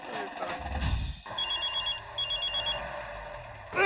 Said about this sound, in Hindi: जेठालाल का फोन है, लगता है उसे पता चल गया कि सब लेडीज कहाँ हैं।